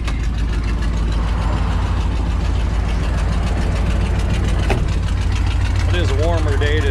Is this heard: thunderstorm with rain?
no